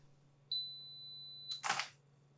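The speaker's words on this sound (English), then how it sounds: "I used 2 seconds timer shutter to avoid camera shake, just like this." A Fujifilm X-T3 camera's 2-second timer beep sounds as a steady high tone for about a second, then a short beep and the crisp mechanical click of the shutter.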